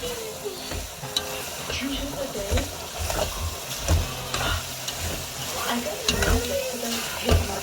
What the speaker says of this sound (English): Now my mom is gonna mix it up.